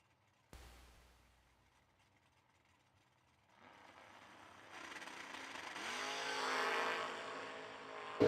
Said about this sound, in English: Taking on racing Jason Lynch, the Fuel Factory first generation Camaro